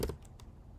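Short burst of keystrokes on a computer keyboard, a few quick clicks up close at the start and then fading into quiet room noise.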